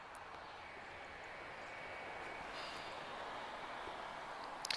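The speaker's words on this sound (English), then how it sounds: "Such a difference with engine sound when you're a bit more in front of them." Aircraft engines drone steadily at Lisbon Airport, a broad, fairly distant roar holding across the whole stretch, with a brief click near the end.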